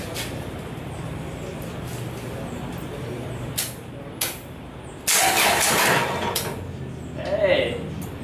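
A Toyota Celica GTS engine with a modified wiring harness cranks over on a first start attempt: a loud, churning starter burst about a second long that stands out from a quieter mechanical background, with a voice nearby.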